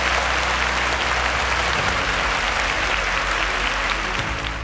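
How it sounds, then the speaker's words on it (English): Steady, dense applause from a quiz show studio audience, close and loud, sustained without any voices throughout. "A round of applause for them."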